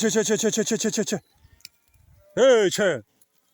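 A herd of sheep bleats nearby in two loud bursts, a rapid run of wavering bleats followed by a short gap and then another pair of strong calls.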